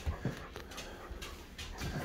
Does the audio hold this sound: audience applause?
no